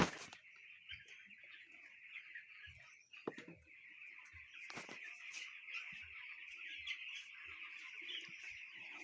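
Flock of poultry chicks in a shed, a dense continuous chorus of high peeping with scattered clicks and knocks underneath, fairly faint and steady.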